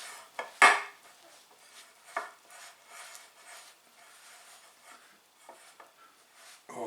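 Flour is mixed into dough in a bowl, giving soft irregular scrapes and a few sharp clinks and knocks of utensil against the bowl. The sounds are close and fairly quiet.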